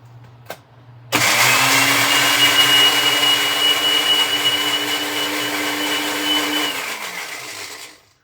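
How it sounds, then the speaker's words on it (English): A blender runs steadily for about seven seconds while being rinsed with water, a loud whirring motor hum with a sustained tone that starts abruptly and then winds down, with no talking over it. "give my blender a bit of a rinse."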